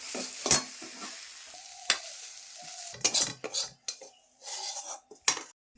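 Metal clanks and scrapes ring out as a pan of sweetened frying food is handled and lifted off the stove in a home kitchen, with a few sharp knocks between quieter sizzling gaps.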